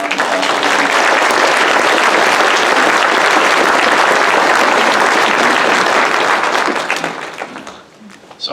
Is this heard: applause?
yes